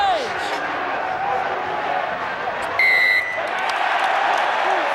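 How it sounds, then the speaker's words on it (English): Leicester fans in the crowd cheer at a rugby cup final between Leicester Tigers and Northampton Saints, a broad, steady roar of a large stadium crowd with a brief whistle-like tone partway through and voices mixed in. "big cheer from the Leicester half of the East Midlands as they get the penalty"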